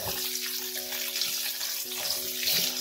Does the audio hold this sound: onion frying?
yes